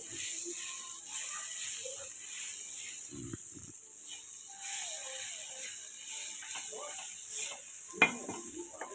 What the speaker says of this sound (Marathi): हे पहा पूर्ण चटणी टाकली, मिक्स करून घेऊ.